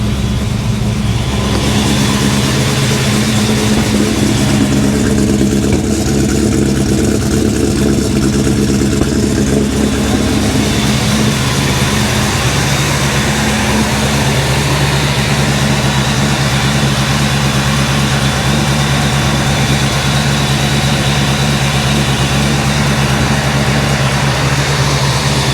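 A supercharged 347 Foxbody V8 with a Holley Super Sniper fuel injection system runs steadily at a loud, close idle with a deep rumble, the rpm settling slightly lower partway through.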